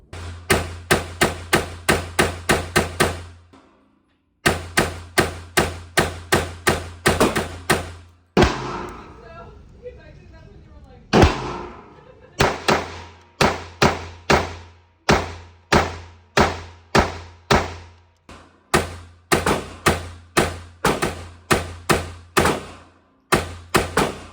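Walther P22 .22 pistol fired at an outdoor range, sharp close cracks in quick regular strings of shots, broken by short pauses and a brief stretch of rustling handling noise midway.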